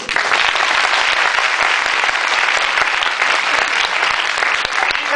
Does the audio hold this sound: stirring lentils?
no